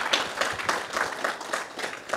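Small studio audience giving a short round of applause, a brief, moderately loud patter of clapping hands.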